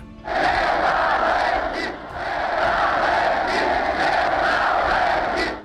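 A large crowd of protesters at a rally outside the Ukrainian parliament roaring and chanting together, loud and sustained, with a brief dip before the noise swells again.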